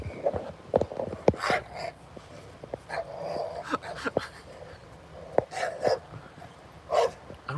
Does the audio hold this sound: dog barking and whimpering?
yes